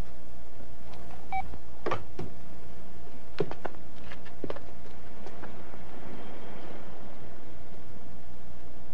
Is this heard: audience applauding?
no